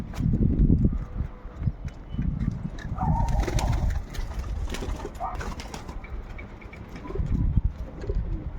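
Soft pigeon coos sound close by amid rustling and shuffling noises, with a few low thumps.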